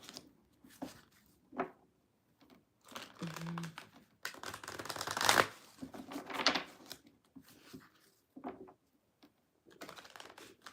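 Tarot cards shuffled by hand during a live reading come through as irregular papery riffles and soft slaps in short bursts, fairly quiet and close, with faint traces of voice between them.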